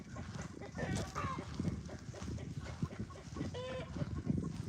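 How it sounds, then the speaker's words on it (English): Farm chickens cluck and squawk repeatedly near a carport, with busy overlapping calls at moderate distance and a person talking over them. "My chickens laying eggs."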